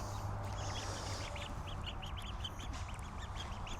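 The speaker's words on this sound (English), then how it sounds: "Look at the ducks, they're getting big, look at them." Young, growing ducks quack repeatedly at a steady rhythm over a constant low rumble of background noise, moderately distant.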